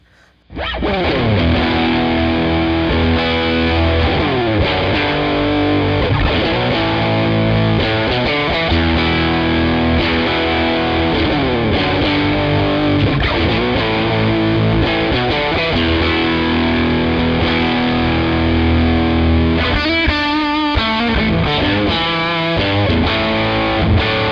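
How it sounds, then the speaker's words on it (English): A heavily distorted, compressed electric guitar through a Tonkraf Fonix tube amp with the preamp turned fully up plays a riff of sustained chords and bends, loud and thick throughout, with no voices. "here's the preamp dimed, a little more compressed"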